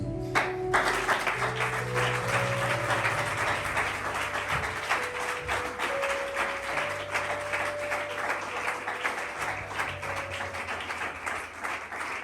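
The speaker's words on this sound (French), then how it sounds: "Si on peut commencer, donne une acclamation à Jésus." A church congregation applauds with dense, sustained clapping that fills the room, with a faint sustained tone running underneath.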